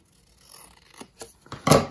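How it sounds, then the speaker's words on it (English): Scissors snip through paper for a layered window album page, a few short close cuts that build to one louder final snip, with no talking. "And then I'm going to cut from this corner up to there."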